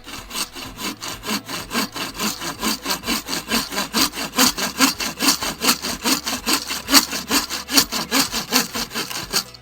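A hand saw cuts through a small wooden log in steady back-and-forth strokes, each rasping pass distinct and close, keeping an even rhythm of roughly four strokes every second throughout.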